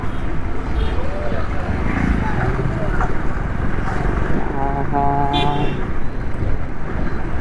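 Road traffic with a constant rumble of cars and heavier vehicles passing nearby and a short horn-like tone partway through, while a person talks over it.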